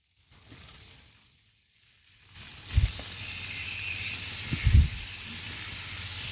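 After a near-silent start, fajita meat is dumped into hot oil and bursts into a loud, steady searing hiss, with a couple of dull thumps as pieces land and shift in the pan.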